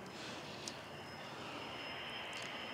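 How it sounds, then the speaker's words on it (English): A loud motorcycle roars past outdoors, a steady broad engine drone holding for a few seconds with no talk over it. "Why do you need a motorcycle that loud?"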